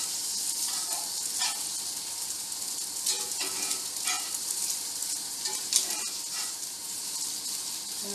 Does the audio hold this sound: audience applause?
no